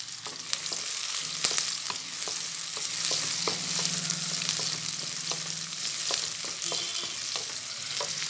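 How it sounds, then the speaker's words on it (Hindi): Onions frying in hot oil in a pan for an egg and bottle gourd bhurji, a steady close sizzle with occasional stirring clicks and scrapes, no talking. "प्याज को हल्का सा हम फ्राई करेंगे।"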